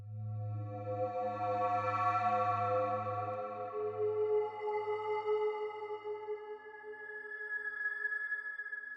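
An Arturia MiniFreak synthesizer plays a one-shot effect: a droning, buzzy tone with strong high resonances that shifts and sweeps over about nine seconds, its low fundamental fading out partway while the upper harmonics keep ringing.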